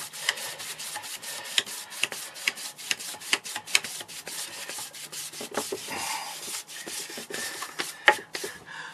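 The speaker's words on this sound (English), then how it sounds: "I give it a good rubbing." Rapid back-and-forth rubbing of finish into wood with a cloth or brush, a steady scratchy swishing in quick strokes with occasional louder scrapes, close and continuous without talk.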